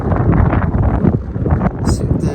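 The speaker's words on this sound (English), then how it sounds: "sorry if it's windy" Outdoors, strong gusts buffet the microphone in a loud, continuous low rumble that swells and dips, with brief rattling noises near the end.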